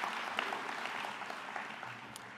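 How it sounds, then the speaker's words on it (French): A party general council audience applauding, broad sustained clapping from a large hall crowd, even and continuous from start to finish. "Ça mérite une bonne main d'applaudissements."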